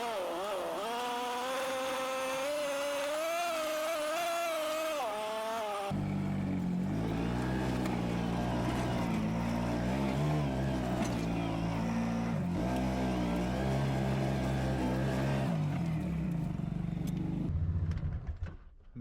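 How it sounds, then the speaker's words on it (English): An overloaded machine hauls half a ton of timber cross country over ice. Its motor whines and rises in pitch at first, then turns to a loud, labouring engine rumble with shifting revs before cutting off. "We're overloading the machine a bit and we are going totally cross country"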